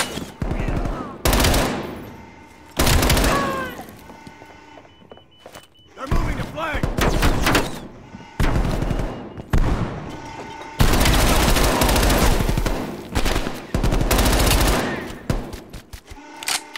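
Bursts of automatic machine gun fire in a Call of Duty: Black Ops Cold War campaign firefight, loud sustained sprays broken by short gaps, with heavy thuds and a voice talking between bursts.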